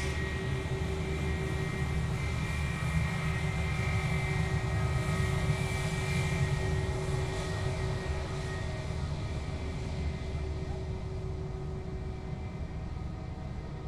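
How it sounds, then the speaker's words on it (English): A Jetstar Airbus A320 taxiing at night along a taxiway at Sydney Airport gives off a steady, loud jet engine whine and roar with a constant tonal hum, fading slightly as it moves away. "Jetstar service 988 off to Perth tonight, the 320. Rolling down taxiway Charlie,"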